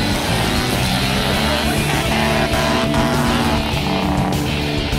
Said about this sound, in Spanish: viene acelerando Horacio Zen porque él sabe que está en la competencia